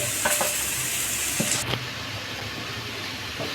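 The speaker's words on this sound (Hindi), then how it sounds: "पत्ता गोभी, डाल के सबको फ्राई करेंगे।" Shredded cabbage and crushed carrot fry in a pan with a loud, dense sizzle that abruptly softens partway through, broken by a few close scraping stirs, and no one speaks.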